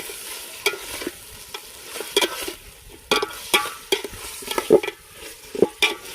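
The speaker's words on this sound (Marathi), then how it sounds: "छानपैकी तेलात मटण भाजून घेऊ." Mutton pieces fry and sizzle in hot oil at an outdoor village cook-up, with repeated stirring scrapes and clanks in an irregular rhythm over a steady low sizzle, close and clear with no talking.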